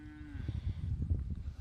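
Cattle moo in a pasture being grazed rotationally on hay, a low bellowing call with a harmonic tone at the start, followed by rumbling low-pitched animal noises, moderately close.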